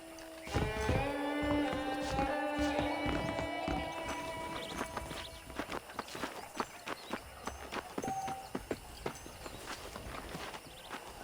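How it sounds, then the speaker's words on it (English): Horse hooves clip-clopping in Red Dead Redemption, a steady rhythmic patter of hoofbeats on the ground that grows clearer in the second half, with brief musical tones and a few clatters early on. "The horses are saddled up over here."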